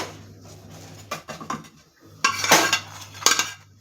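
A pan clanks and scrapes on the stove while a chapati (sukka roti) puffs beneath it, with a few sharp metallic knocks and a louder burst of clattering near the end over a low steady hum.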